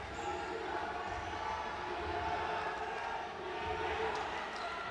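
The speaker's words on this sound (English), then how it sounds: "You can hear the crowd" A packed indoor crowd roars steadily throughout a men's D Division basketball final between DFCC Bank and NDB Bank, a dense sustained wash of cheering with a commentator's voice faintly underneath.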